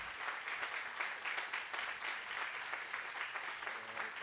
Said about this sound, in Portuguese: Por favor, palmas para o Loyola.